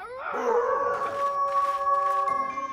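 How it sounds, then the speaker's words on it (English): A single long, rising then steady howl like a wolf in a children's cartoon, loud and close, holding one tone for a couple of seconds. "Sounds like another wolf."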